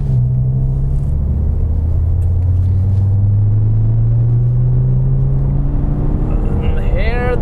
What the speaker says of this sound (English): Here the turbos kick in.